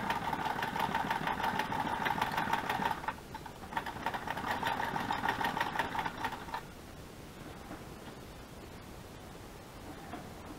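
A home sewing machine stitching fabric runs in two steady mechanical whirring bursts of about three seconds each, close and fairly loud, then falls quiet into faint room noise.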